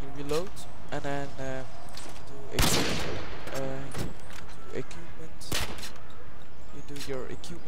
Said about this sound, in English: you shoot one out of your left pistol, you reload